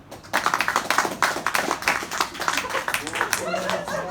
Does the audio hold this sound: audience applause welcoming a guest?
yes